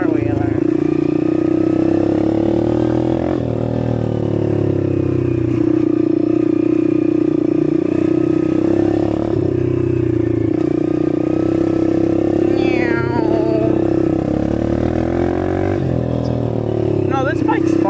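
A quad four-wheeler ATV engine drones steadily while riding, a loud sustained hum with small rises and dips in revs, and a rider talks over it now and then.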